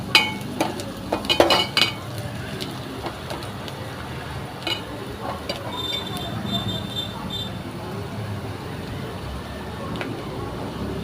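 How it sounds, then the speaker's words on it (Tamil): Washed drumstick leaves are sautéed with onion in a pan: a brief clatter of a utensil against the pan at the start, then a steady, soft sizzle that continues throughout. "கழுவின முருங்கைக்கீரையை அதில் எடுத்து சேர்த்து நல்லா கொஞ்சம் வதக்கவும்"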